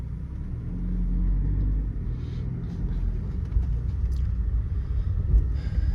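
Mercedes-Benz W201 with a five-speed manual gearbox driving along, a steady low engine and road rumble from inside the cabin, fairly even throughout with slight swells.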